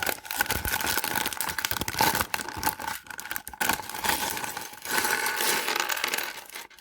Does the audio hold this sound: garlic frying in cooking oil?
no